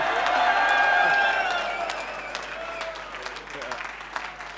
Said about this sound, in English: a lot of flag waving going on, a lot of cheering